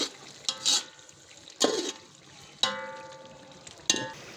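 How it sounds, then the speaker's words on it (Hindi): Tomato masala frying in a pan while being stirred, with several bursts of sizzling and scraping separated by quieter gaps, close and moderately loud. "अच्छी तरह से भून लेंगे।"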